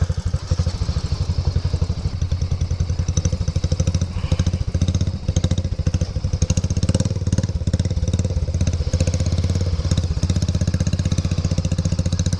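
A motorcycle engine runs steadily up close with a low, even thrum and slight clatter, holding near-idle while the bike is parked near a roadside waterfall gate.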